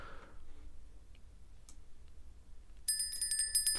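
A trading platform alarm bell sounds near the end as a bright, repeated electronic ringing over quiet background clicks and ticks.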